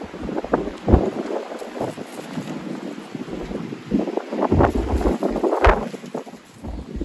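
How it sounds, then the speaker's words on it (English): Strong outdoor wind buffets the microphone in loud, uneven gusts that rumble and swell throughout, while flower gift baskets are being arranged outside. "Because of the wind, mainly."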